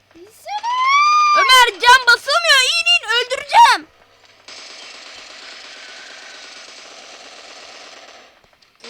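Sustained automatic gunfire from a shooting video game rattles steadily for about four seconds, following a young voice shouting excitedly over the game.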